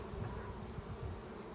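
Honey bees from a swarm colony buzz steadily during a hive inspection, a dense continuous hum close by with no voices.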